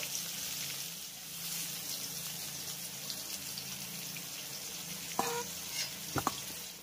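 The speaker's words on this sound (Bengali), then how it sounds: "এবার আমি তেল থেকে কাঁকরোল আর আলুটাকে তুলে নেব।" Pointed gourd and potato pieces frying in oil give a soft, steady sizzle throughout, with a couple of sharp utensil clinks near the end and no voices.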